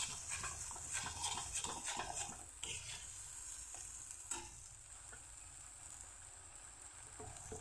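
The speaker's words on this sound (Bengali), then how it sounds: "এই বাটাটা আমি দিয়ে দিচ্ছি। দিয়ে আর একটু ভালো করে ভেজে নেব।" A ground spice paste for a vegetarian Bengali dish fries and is stirred in a pan, a close crackling sizzle with clattery spoon scrapes that are busier early and settle into steadier frying.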